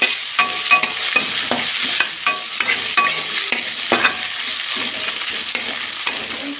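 Cashews and raisins fry in a pan for upma, sizzling steadily while a spoon stirs through them with repeated scraping knocks.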